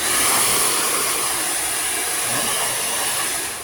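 A hot air blower works over the main circuit board of a TCL 43S615 television during repair, giving a steady, loud, continuous rushing hiss that holds unbroken throughout, with no talking.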